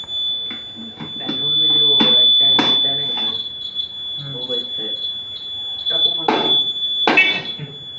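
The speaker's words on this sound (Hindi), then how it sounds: "धुआं बचा हुआ रह गया था जो हमने साफ नहीं किया, उसकी वजह से जो है अलार्म बजने लगा" A smoke detector sets off a false alarm from leftover smoke, giving a continuous high-pitched electronic tone that is loud and close while someone talks over it.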